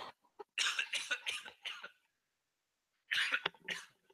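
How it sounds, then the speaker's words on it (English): A person coughs hard in a close burst of several rapid coughs, followed by a pause of silence and then a second shorter burst of coughs. "oh man, I need to cough"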